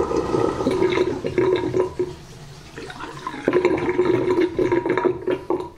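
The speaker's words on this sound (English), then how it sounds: "Nice full bowl of water, and let's see what happens when we let it out." Water drains from a full, newly unblocked bathroom sink bowl with a gurgling, rushing flow that is loud and close, surging, dipping midway and then swelling again.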